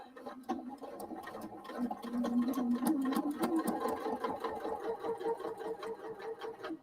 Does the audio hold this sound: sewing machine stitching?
yes